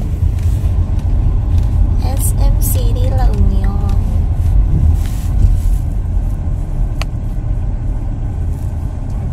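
A car interior at SM City La Union's busy parking area, with a steady loud engine rumble and road noise, people talking briefly over it, and one short sharp tick near the end.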